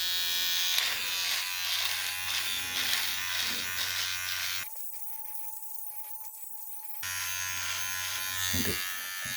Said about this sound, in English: They're just basically just a beard shaver.